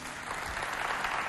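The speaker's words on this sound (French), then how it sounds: "Applaudissez pour lui." A brief, fairly faint patch of audience applause at a youth holiday event in Walia, a soft continuous wash of clapping without distinct individual claps.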